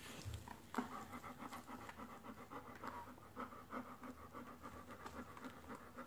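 A Dobermann bitch pants rapidly after whelping, a steady close rhythm of quick breaths running the whole time under heat lamps, with faint rustling in the background.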